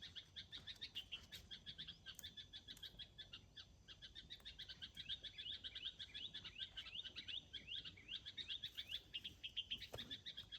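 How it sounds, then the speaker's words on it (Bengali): A bird sings in a tree, a quick repeating run of high chirps and trills rising and falling through the whole stretch, faint and somewhat distant with no talking. "এই দেখো কি সুন্দর পাখিতে ডাকতেছে। ওই যে পাখিটা গান গাচ্ছে।"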